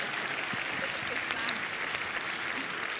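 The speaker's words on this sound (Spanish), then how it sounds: "fuerte el aplauso para nuestro presidente, sí. Gabriel Boric Font." The studio audience at Chile's 2024 Teletón charity broadcast applauds the president with a dense, steady wash of clapping that holds at an even level throughout, with faint voices mixed underneath.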